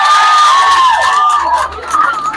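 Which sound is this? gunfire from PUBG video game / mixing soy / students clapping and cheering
students clapping and cheering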